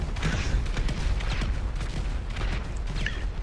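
Rapid gunfire rattles through a chaotic firefight in GTA Online, a dense, continuous barrage of overlapping shots and booms at steady loudness for the whole stretch.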